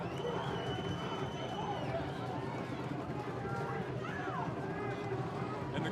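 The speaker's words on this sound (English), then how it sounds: "the crowd is getting quite rowdy right now" A rowdy crowd at a high school football game roars continuously in the stands while an announcer talks over it.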